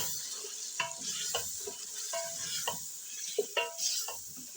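Ground onions going into hot oil in a karahi for Lahori mutton karahi, a quiet sizzle broken by clinks and scrapes of a metal spoon against the pan, irregular and close.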